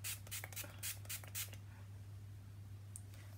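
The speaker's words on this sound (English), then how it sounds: "my fixing spray again, and spray this bit" A makeup fixing spray bottle gives about five quick, soft hissing bursts in a row, close and distinct over a steady low hum, then one faint spritz follows after a pause.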